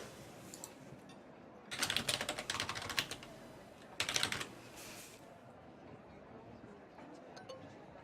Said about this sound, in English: that keyboard is so slow. It really doesn't like typing on there.